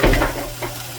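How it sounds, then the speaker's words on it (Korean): Ingredients stir-fried in water and oil over high heat while making homemade jjamppong, giving a loud hissing sizzle at the start that settles into a steady softer frying crackle. "불을 세게 해주고 이렇게 볶아줍니다. 물과 기름으로 튀겨주는 겁니다."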